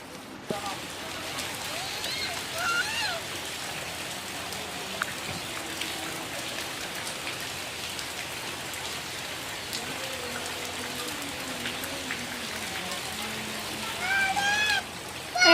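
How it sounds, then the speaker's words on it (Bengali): Steady rain pouring and pattering on surfaces, a dense continuous hiss that runs throughout, with people talking over it and a few sharper clatters near the end. "এর মধ্যে বৃষ্টি চলে আসছে"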